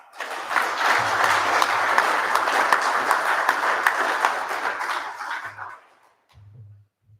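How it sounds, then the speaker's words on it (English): An audience at an Australia Day ceremony applauds the town's volunteers, sustained clapping from a crowd that holds steady for several seconds, then thins and fades out. A low hum briefly returns near the end. "Could you please give a round of applause for all our volunteers?"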